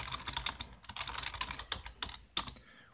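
Rapid, irregular keystrokes on a computer keyboard while writing an AQL database query, close and fairly quiet, steady clicking throughout with a few sharper taps and no talking.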